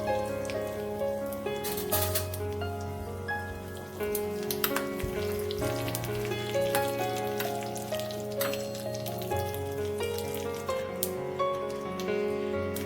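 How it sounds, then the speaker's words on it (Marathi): Mustard seeds, dried red chillies and curry leaves sizzle and pop in hot oil for a dal khichdi tadka, a soft crackle and scattered pops beneath steady background music. "तेल गरम झालं की त्यामध्ये अर्धा चमचा मोहरी टाकायची आहे. 2 ते 3 सुक्या लाल मिरच्या, थोडासा कढीपत्ता टाकायचा आहे."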